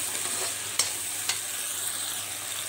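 Food being stir-fried in a pan with a small spoon of Schezwan chutney, a soft continuous sizzle with a couple of quick scraping clicks of the spoon, no voices.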